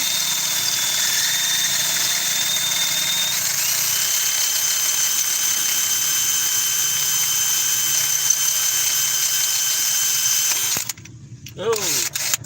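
A power drill bores steadily with a bit at an Oliver tractor show service call, whining loudly and continuously up close for about ten seconds before it stops and a few metallic clanks follow.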